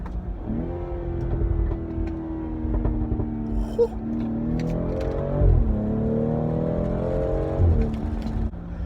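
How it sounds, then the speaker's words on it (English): A 2018 BMW X3 M40i with its M Performance exhaust revs up and down repeatedly, the pitch rising and falling, with occasional sharp pops and crackles; close and fairly loud. "This thing pops like crazy."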